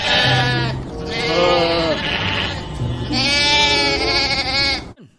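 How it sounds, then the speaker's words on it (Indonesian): Sheep bleat loudly and repeatedly at close range, several long wavering calls overlapping in a farm setting, with a brief pause between bursts. "Wow, ini domba teman-teman."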